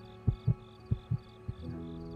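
A heartbeat sound effect thumps in paired low beats, about five quick pulses at a fast, uneven pace, soft and muffled over a faint steady hum with no talking.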